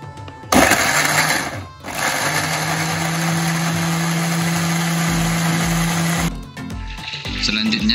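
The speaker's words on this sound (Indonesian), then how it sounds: "Sambil jengkolnya direbus, kita haluskan dulu bumbu yang dihaluskan." A kitchen blender grinds spices for jengkol kalio with a loud, steady high-pitched whir. It starts abruptly, pauses briefly, then runs continuously for several seconds before cutting off.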